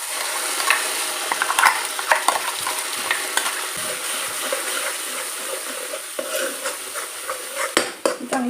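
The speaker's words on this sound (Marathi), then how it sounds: "चांगली परतून घ्यायची आहे" Ground spice paste is stir-fried in a pan, with a steady sizzle broken by frequent sharp scraping and clattering of a spoon against the pan.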